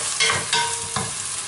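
Pepper, onion and garlic sautéing in a pan, a close steady sizzle with three quick scraping stirs of a utensil spaced through it.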